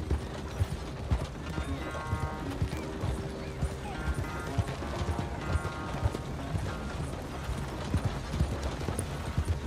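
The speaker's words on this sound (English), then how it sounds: "Let's bring this horse back." Horse hooves clip-clopping in the video game Red Dead Redemption 2 on a ranch, a steady walking rhythm of close hoof strikes with faint mechanical creaks and ambient sounds.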